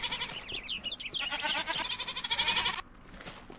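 Goats bleat repeatedly in Minecraft, a run of high, wavering bleats overlapping one another, close and fairly loud, with a brief pause near the end before one last cry.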